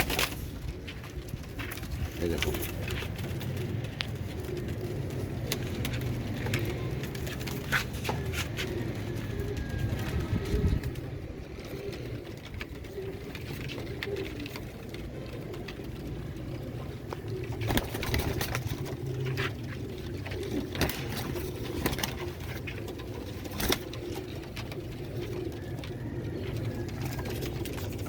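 Ali Wala pigeons coo softly and continuously in a loft, with low throaty calls under ambient noise and someone speaking briefly.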